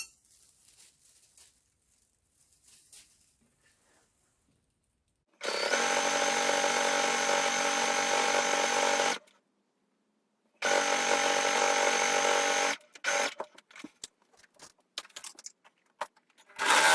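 A sewing machine and overlocker stitch a centre back seam on a Picasso top, two long loud steady motor runs of several seconds each, separated by quiet handling and fabric rustle.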